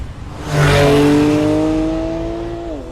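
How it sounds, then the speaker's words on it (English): A powerful 2015 Porsche 911 Carrera GTS engine surges up to a loud, throaty roar, holds steady, then eases off as the pitch drops near the end. "gives the GTS a very distinctive engine sound"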